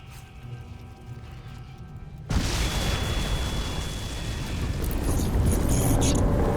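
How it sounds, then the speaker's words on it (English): Explosion in the video game Crysis 2 Remastered, a sudden loud broadband blast that erupts after a quieter stretch and keeps rumbling and roaring to the end. "Explosion imminent."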